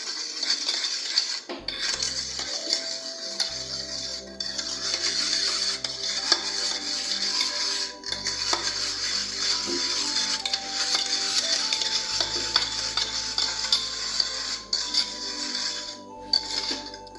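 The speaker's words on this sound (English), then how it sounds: "You stir it very well." A spoon stirs a baking soda and lemon mixture in a small dish, scraping and clinking steadily against the sides with quiet rubbing in between, up close and without talk.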